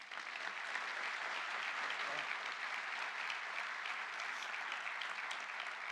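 A ceremony audience at the Advocacia-Geral da União gives a round of applause, a continuous, even roar of many clapping hands heard from a distance, fairly faint but steady for several seconds.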